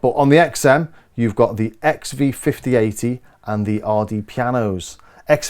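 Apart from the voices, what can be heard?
No distinct noise like a dog, phone or traffic.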